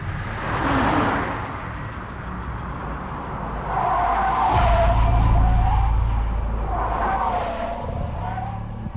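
A car in a crime drama scene, running out of petrol: a low engine rumble with high tyre squeals rising twice as it slides to a stop, loud and near.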